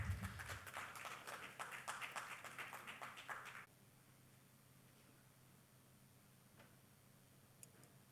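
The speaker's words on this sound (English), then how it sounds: "A round of applause, please," Brief applause from an audience at a literary conference book launch as guests join the stage, a few seconds of moderate clapping that stops abruptly, leaving a quiet room.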